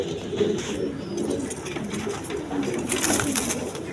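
A pair of high-flying Giribaz pigeons coo softly and repeatedly in close range, low rolling calls over a light background with a few brighter rustles.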